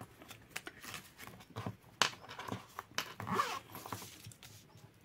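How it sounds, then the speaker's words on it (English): Zipper on the zip bag of a Filofax planner being drawn open and shut, several close raspy zipping strokes mixed with rustling handling noise. "the zipper bag."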